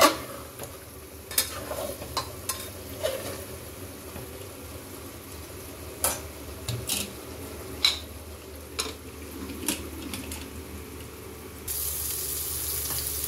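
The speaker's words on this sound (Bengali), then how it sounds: "ভালো করে ভাজবো মাংসটা। আর কি হলো, কতদিন ভালোই কষা কষা হচ্ছে, একটু নেড়ে দিই।" Meat sizzles steadily in a hot pan while being browned, a utensil scraping and stirring at irregular intervals, the clacks standing out over the constant frying hiss.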